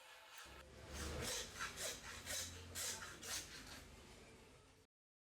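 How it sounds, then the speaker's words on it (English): A butcher saws through the knuckle joint at the end of a lamb leg, the blade's rasping back-and-forth strokes coming close and steady in a rhythmic run of about a dozen passes before stopping. "we're just going to saw off that knuckle joint at the end there."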